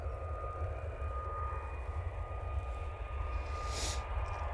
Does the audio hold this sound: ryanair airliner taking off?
yes